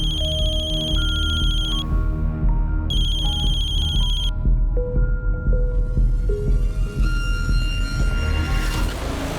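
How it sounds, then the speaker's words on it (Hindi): A mobile phone rings loudly and insistently with a repeated incoming call, its electronic ringtone playing a stepping melody of clear tones over bright high beeping bursts that cut in and out. "तो बार बार कॉल कर रहा है।"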